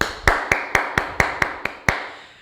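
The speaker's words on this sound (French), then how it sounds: "Et on s'applaudit, bravo." A class applauding itself at the end of a drill, heard as about nine sharp, evenly spaced claps in quick steady rhythm, close and fairly loud, with no talking.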